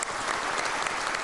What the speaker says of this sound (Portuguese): eu queria pedir aqui uma salva de palmas para todos os familiares aqui presentes